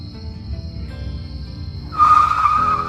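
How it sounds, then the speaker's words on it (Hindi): Car braking to a stop in a Hindi cartoon: an engine rumble runs for about two seconds, then a loud, high tire screech cuts in and holds to the end. "धीरज, गाड़ी रोक, मुझे कुछ लेना है।"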